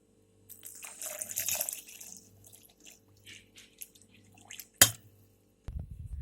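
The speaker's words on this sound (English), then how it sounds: "Then add some milk to that." Milk is poured onto powdered Bourbon biscuits in a mixer jar, giving a faint, close trickling and splashing pour, followed by a sharp clink and a brief rattle.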